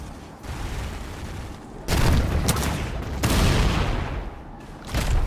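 Rapid bursts of gunfire from a gun in the Roblox game The Strongest Battlegrounds, loud and dense, coming in several heavy volleys with brief gaps between them.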